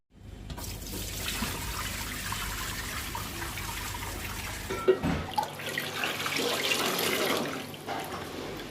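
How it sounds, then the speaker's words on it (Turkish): Basil sherbet with squeezed lemon juice is strained, a steady close pouring and trickling of liquid that runs continuously, with a brief clink partway through. "Reyhanımız süzülmeye hazır. Şimdi bunu güzelce bir süzelim."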